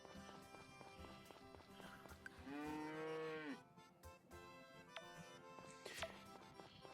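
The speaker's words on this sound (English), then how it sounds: "What other cow needs to be milked?" A cow in the Friends of Mineral Town farming game gives a drawn-out electronic moo over steady looping background music and light game sound effects, clear and fairly close, with no one talking.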